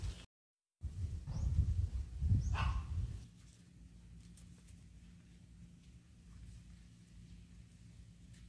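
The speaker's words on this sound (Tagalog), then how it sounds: "Iingay ng aking aso mga ka-garden." A dog in a home garden barks in a burst of loud, close barks over about two seconds, then falls silent, leaving quiet outdoor ambience.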